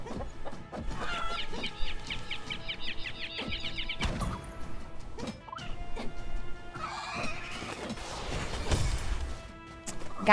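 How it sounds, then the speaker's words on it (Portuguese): Chickens cluck and squawk in My Time at Sandrock, a farming video game, with repeated rapid clucking bursts mixed with thumps and game effects, fairly loud and close. "Meu Deus, a galinha vai me matar!"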